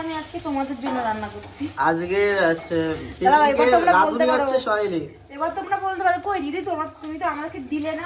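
Duck frying in a pan, a steady sizzle and occasional stirring heard faintly beneath someone talking almost continuously.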